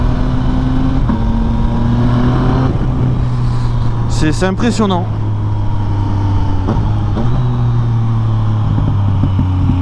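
A Yamaha MT-09 motorcycle accelerating hard at mid revs, a loud close engine drone rising in pitch through gear changes, with wind rush and someone talking over it.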